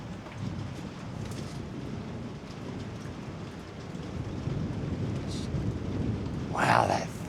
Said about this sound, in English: Wow, that thunder is just non-stop.